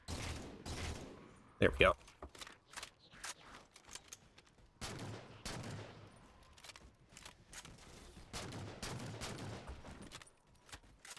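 Gunfire in the video game Halo 4 comes as scattered sharp shots and short volleys at modest level, with someone talking briefly over it.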